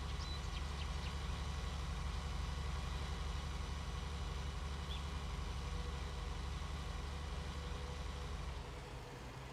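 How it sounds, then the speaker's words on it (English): A tractor engine idles steadily in the farming game Farming Simulator 19 on the Ravenport map, a continuous low droning hum, loud and even, with no voices over it. "So let's go ahead and get our tractor over here."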